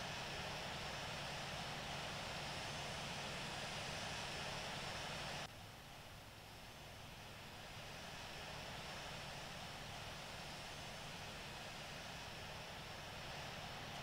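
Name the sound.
aircraft taxiing to runway in Infinite Flight video game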